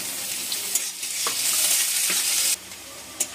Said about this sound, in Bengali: পেঁয়াজ রসুনটাকে ভালো করে ভেজে নেবো।